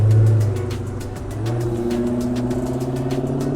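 A car drives past on the street with a steady, mid-pitched engine drone that swells briefly and then holds, loud and close, with no one speaking.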